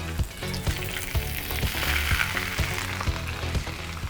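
Noodles stir-fried in a hot wok with garlic for pad see ew, a steady loud sizzle and crackle with regular scraping and tossing strokes of the spatula throughout, no talking.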